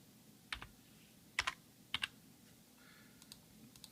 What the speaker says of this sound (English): let's go in and type in our name.